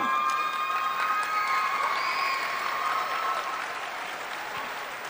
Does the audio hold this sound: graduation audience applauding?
yes